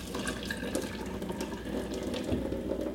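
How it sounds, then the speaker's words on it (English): Hot water pours off boiled sweet potatoes as a pan is tipped with its lid held ajar, a steady close splashing rush into a sink, with no talking. "Then I'm going to drain the water off the sweet potatoes, and all I do is tip the lid"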